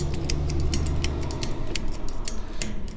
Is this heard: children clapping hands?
no